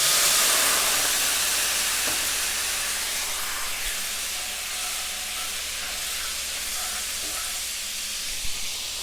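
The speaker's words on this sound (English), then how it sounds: "Now we're going to deglaze with our white wine." White wine poured into a hot pan after frying veal, a loud bright sizzle and hiss that bursts up at once and then slowly fades, steady and close with no talking.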